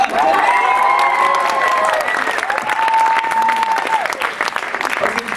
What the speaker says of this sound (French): Terminé, applaudissez encore.